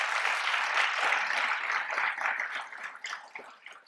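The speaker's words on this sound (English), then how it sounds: "Can we give her a round of applause?" An audience at a county budget address applauds an honored guest, steady close hand clapping that holds for a few seconds before thinning out and fading.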